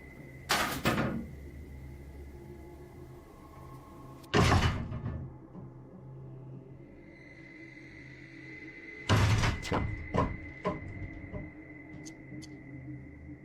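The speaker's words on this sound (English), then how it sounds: "You can literally see the demon on camera moving the crib and then breaking the wardrobe doors." Wardrobe doors are broken and a crib is moved indoors, heard as three loud separate knocks and bangs with rattling, each followed by quiet and a faint steady hum.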